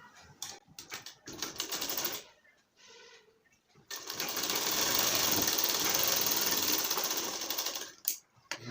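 A sewing machine stitches a bra seam in close, loud runs: several short bursts, a pause, then one long continuous stretch of rapid needle chatter, with no talking.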